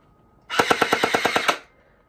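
An AK-style gel blaster fires a rapid burst of about ten sharp, evenly spaced shots lasting roughly a second, loud and close, with no talk over it.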